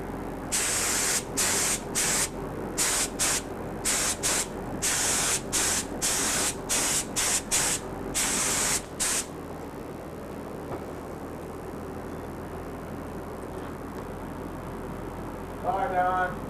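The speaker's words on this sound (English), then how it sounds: "let's put a few coats of clear gloss on this so you can see what it looks like" Clear gloss coats going on from a spray gun in a finishing shop: about a dozen hissing bursts of varying length in a steady run, then the spraying stops and only faint room noise remains.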